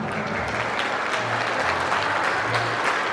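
Sustained audience applause from a crowd at a large Armenian stage show, steady and dense clapping filling the space throughout with no pauses.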